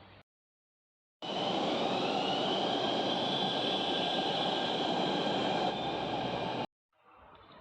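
A loud, steady metro train arrives in the rain, rumbling and hissing past with a high whine for several seconds, starting and stopping abruptly, with brief background noise around it.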